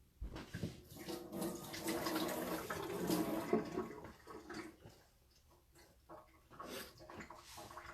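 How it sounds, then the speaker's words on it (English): Tap water runs into a kitchen sink during handwashing, a steady broadband splash that rises and stays loud for several seconds, then tapers off into quieter trickles near the end. "I'm just going to wash my hands again"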